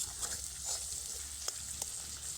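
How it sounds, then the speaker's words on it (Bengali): Spice paste fried with a splash of water in a pan for a koi fish curry, giving a faint, steady low sizzle broken by a few sharp spatula clicks and scrapes. "জল দিয়ে মশলাটা ভালোভাবে কষিয়ে নেব"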